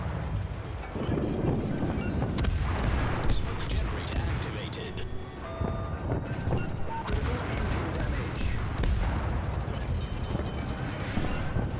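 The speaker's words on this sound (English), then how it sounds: "So I instead send my other salvo to the other side" Heavy naval guns from the cruiser Leningrad in World of Warships boom in repeated salvos, their deep, rumbling blasts rolling over continuous battle noise, with someone talking under the action.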